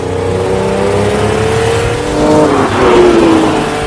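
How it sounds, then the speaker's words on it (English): A 5-litre V12 engine revs and accelerates in a 1985 car, a steady loud drone with rising and falling tonal whine, swelling near the end, with no talk over it. "when you unleashed its 5-litre V12"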